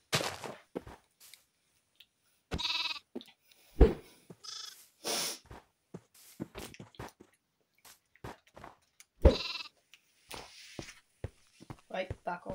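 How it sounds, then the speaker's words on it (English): A baby sheep in the Minecraft video game bleats in short, repeated bursts mixed with other sharp in-game sounds and thumps, at moderate loudness. "Baby sheep."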